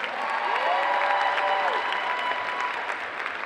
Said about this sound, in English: Please get a round of applause for them.